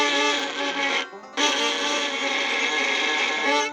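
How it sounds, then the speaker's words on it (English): Harsh, scratchy bowed fiddle notes on open strings with the bow pressed too hard, a gritty edge, a long stroke, a brief break, then another sustained stroke, played close with no talking. "It's just going to be a terrible scratchy sound."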